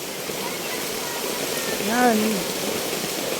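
River water flows in a steady broadband wash by a Philippine riverside, continuous and moderately loud, while a voice speaks briefly over it near the middle.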